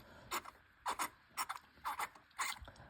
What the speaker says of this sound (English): I will go ahead and drop it in and start tightening.